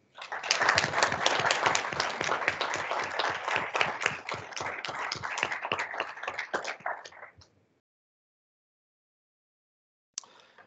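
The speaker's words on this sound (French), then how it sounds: "Vous méritez une belle main d'applaudissements." Audience applause at a YMCA annual general meeting in Quebec, a dense burst of many hands clapping for about seven seconds before stopping abruptly, with a brief faint patter returning near the end.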